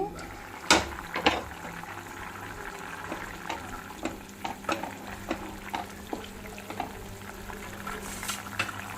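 A pot of egg and brinjal curry simmers with a soft, steady bubbling and sizzle. Occasional sharp clinks and taps stand out now and then, and no one speaks.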